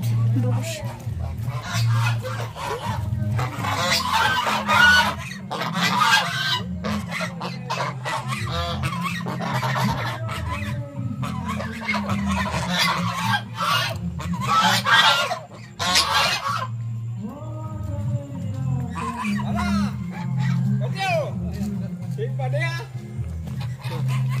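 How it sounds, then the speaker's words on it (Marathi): Ducks at a farmhouse give loud, repeated honking quacks in irregular bursts nearby, overlapping throughout with people talking. "इथे बदकं पण आहेत"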